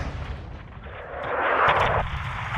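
The AC-130 gunship's big gun fires in Modern Warfare 2, a heavy boom followed by a rolling, rumbling blast that swells and fades over a couple of seconds, with no talk.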